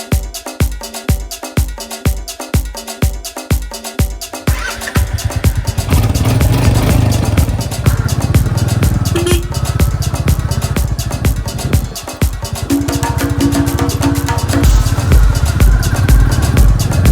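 Motorcycle ride near Sambalpur: a rhythmic pulsing engine beat at first, then a loud, sustained roar of engine and rushing wind as the bike moves on.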